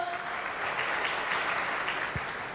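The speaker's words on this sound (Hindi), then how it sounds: "जोरदार तालियां दोस्तों" A hall audience at a network marketing motivational event claps in a continuous, even burst of many hands, fairly close and steady, with no voices over it.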